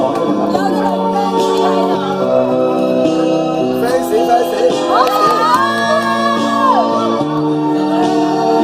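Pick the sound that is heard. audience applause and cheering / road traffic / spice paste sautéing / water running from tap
audience applause and cheering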